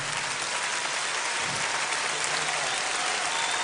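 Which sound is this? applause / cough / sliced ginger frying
applause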